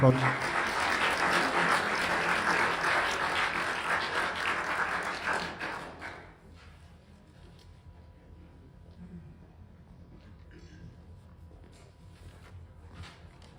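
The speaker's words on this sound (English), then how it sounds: "So let's have a round of applause for Jean." An audience at a memoir reading gives a reader a round of applause, a dense wash of clapping for about six seconds before it fades into quiet room noise with faint talk.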